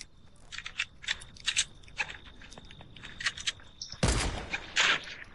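Bursts of gunfire from a shooting video game arrive as quick clusters of sharp cracks. A louder, denser volley near the end sits close against a faint steady background tone.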